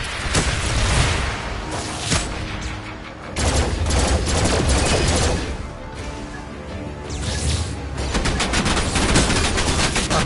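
Rapid bursts of gunfire in the virtual-reality shooter Farpoint ring out loud and close in dense clusters, with short lulls between volleys and no voices.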